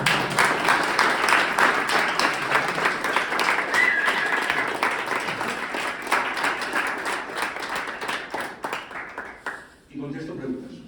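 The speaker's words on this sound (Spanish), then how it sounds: "Y ahora es cuando ustedes aplauden." A crowd claps and applauds loudly for several seconds, fading out before a voice speaks at the very end.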